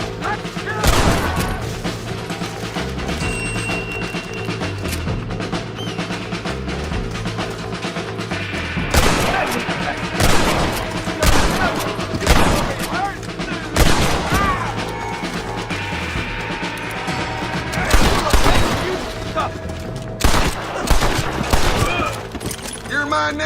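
Rapid bursts of gunfire and crashing impacts ring out in Red Dead Redemption, loud shots clustered in volleys over music, with voices speaking between them.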